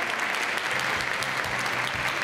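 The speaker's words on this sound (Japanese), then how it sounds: "どうぞファイナリストの皆様に大きな拍手をお送りください。" An audience at the 2022 Miss SAKE Japan final selection pageant applauds the finalists in a steady, even wash of clapping that holds for the whole moment.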